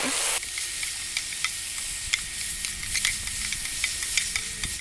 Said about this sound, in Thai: ผัดจนกว่ามันจะสุกนะครับ ผัดไปเลย